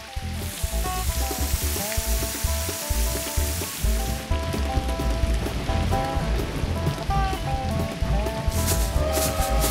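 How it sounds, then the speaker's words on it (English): Dense, steady patter of rain on a hard surface, crackling like sizzling, continuous and fairly loud with no voices. "Rain has a certain rhythm to it."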